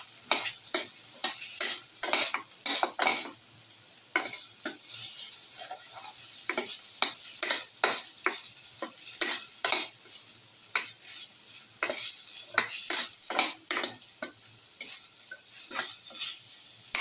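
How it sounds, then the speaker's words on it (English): Beef casserole ingredients sautéing in a pan, a steady sizzle broken by frequent sharp scraping and clacking strokes of a utensil stirring in an irregular rhythm, close and clear with no talk. "thoroughly saute now."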